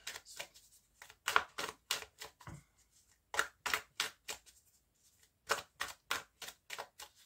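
Tarot cards being shuffled by hand before a nine-card spread, in quick bursts of crisp riffling flicks separated by short pauses, close and fairly quiet, with no talking.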